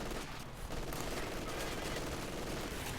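Dense, continuous MG42 machine-gun fire mixed with other gunfire rattles through a Company of Heroes 2 battle, a steady loud barrage with a commentator's voice running underneath.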